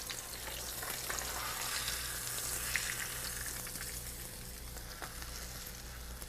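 Catfish frying in hot oil, a steady, dense sizzle that carries on without a break, close and fairly loud, with no voices.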